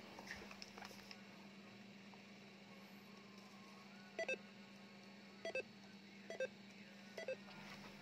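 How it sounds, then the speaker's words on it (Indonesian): An Alinco DJ-180 handheld radio transceiver, just repaired with a new electrolytic capacitor, gives four faint short beeps a second or so apart over a steady low hum. "Setelah ganti elko, ada bunyi beep ya keluar"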